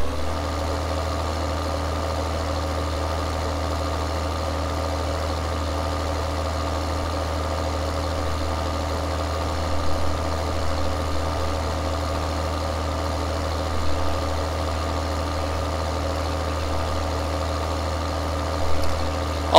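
Tractor engine idling in Farming Simulator 2013, a steady low mechanical drone with constant hum and slight vibration, alone and unchanging throughout.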